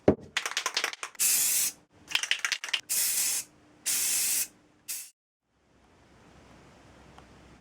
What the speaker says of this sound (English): Just bronze spray paint or amber